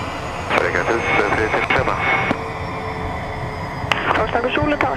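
A private jet taxiing toward the runway on a flight to Greenland, its engines giving a steady loud whine and rumble heard from the cockpit beneath radio chatter between pilot and tower.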